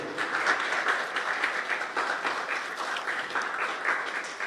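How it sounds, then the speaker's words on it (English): Audience applause at an essay competition prize-giving ceremony, a steady wash of many hands clapping at moderate level throughout with no talk over it. "let us give him a round of applause."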